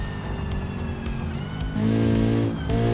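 A Hirochi CCF race car in the BeamNG video game laps West Coast Raceway, its engine revving hard with rising tones that jump between gears. It is loud and close, with no talk.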